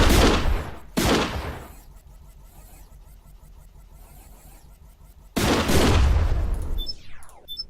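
Shotgun blasts in the robot strategy game Gladiabots: one sharp, loud shot, a second close behind, then a lull and a final heavy blast followed by a fading tail, with no talking.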